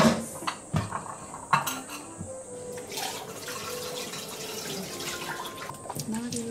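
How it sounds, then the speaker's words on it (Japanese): Dishes being washed at a kitchen sink: plates and cutlery clink and knock in a few sharp clatters over running tap water, close by and moderately loud, with brief speech in between. "食器洗いたいと思います。"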